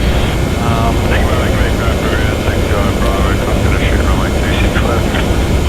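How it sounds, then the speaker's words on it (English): A Qantas 717-200 jet taxis at Melbourne in the Prepar3D flight simulator, its engines a loud steady rumble and hiss throughout, while someone talks over the noise. "So we're taxiing out via Juliet, Yankee, Quebec."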